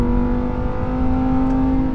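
Lamborghini Huracan Tecnica with its V10 engine, a 632bhp supercar, holding a steady loud drone with a strong even tone throughout, close and continuous with no voices.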